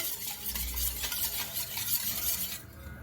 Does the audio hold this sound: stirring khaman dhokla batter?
yes